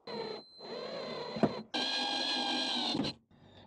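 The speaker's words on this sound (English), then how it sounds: "So next step is just simply to drill those in." A power drill drives screws into a wooden platform inside a car being converted into a camper, with two close whirring bursts, the second longer and higher pitched, separated by brief pauses and a sharp knock.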